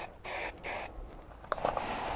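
Short hissing bursts of automotive black primer sprayed from an aerosol can during budget rust repair, two close blasts followed by faint rattling and handling sounds.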